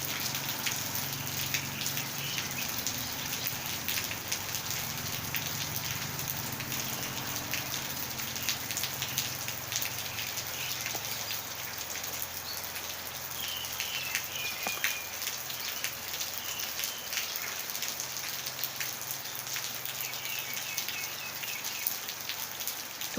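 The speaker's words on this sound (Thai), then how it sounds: "ฝนตกจริงๆ" Rain falls steadily on surfaces on Koh Kradueng island, with a constant dense patter of drops and occasional louder splashes, heard alone at moderate volume and unchanging from start to finish.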